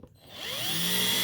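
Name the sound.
drill reversing screw into wood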